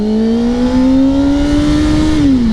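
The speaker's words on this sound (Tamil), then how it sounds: "டென் தௌசண்ட் ஆர்பிஎம் அப்படி தேர்ட்டீன் தௌசண்ட் ஆர்பிஎம் வரையும் நம்ம வந்து புல் பண்ண முடியும்" A Kawasaki superbike's engine revs continuously toward high rpm, its rising tone climbing steadily then dipping near the end, loud, close and alone with no talk.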